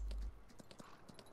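Horse hooves clip-clopping at a steady walking pace in Farming Simulator 19 on a Michigan map while riding, faint and regular in a short burst.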